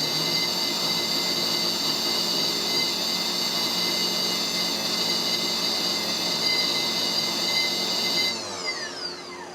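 A steady whirring motor hum with high-pitched whine from a Razor SX500 e-bike hub motor spinning backwards, running continuously, then shifting pitch and winding down near the end.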